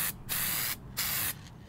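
A can of spray paint that bonds straight to metal hisses in three steady bursts with short pauses between them, applied to a metal part while installing a battery kill switch.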